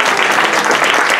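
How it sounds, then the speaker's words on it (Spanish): Audience applause at a social innovation awards ceremony, a dense continuous wash of many hands clapping at steady loudness throughout the short burst. "Bravo, un aplauso, por favor."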